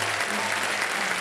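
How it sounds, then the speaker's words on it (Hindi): Steady, continuous clapping from a studio audience on a game show set, a full wash of applause heard throughout with no breaks or voices standing out. "जब इधर जाएंगे तो ताली बजेगी"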